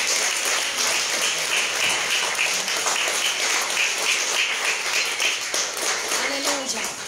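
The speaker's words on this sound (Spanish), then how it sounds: "Vamos a darle un aplauso al Señor" A church congregation at a general worship service breaks into sustained, loud applause for the Lord, steady for several seconds with faint voices mixed in.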